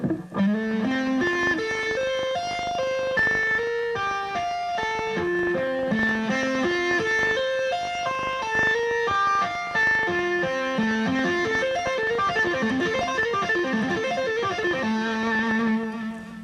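A distorted electric lead guitar plays a tapping lick slowly, with clear, separate notes in repeating stepwise patterns that run steadily for several bars, alone and without any talk.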